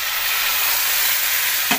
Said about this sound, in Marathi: आणि मस्त तेलामध्ये परतून घेऊया